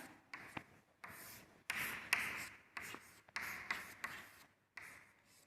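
Pen or pencil writing an answer by hand on paper, a Hindi class exercise: a run of short, close scratchy strokes in bursts with brief pauses, steady and fairly quiet, no voice.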